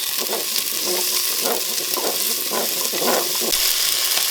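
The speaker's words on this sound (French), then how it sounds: "Dans la cuve du cookéo, je mets un oignon rouge dans de l'huile qui a commencé de chauffer." A red onion fries in heated oil inside a Cookeo multicooker, a steady bright sizzle broken by rhythmic stirring scrapes about every half second, close and loud throughout.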